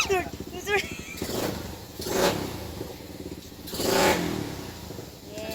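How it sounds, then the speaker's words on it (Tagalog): An overhauled motorcycle engine runs, revving up in two strong surges between steadier idling, with a voice heard near the start. "nandito na po yung aming motor na kaninang umaga ay pina-overhaul namin doon sa shop"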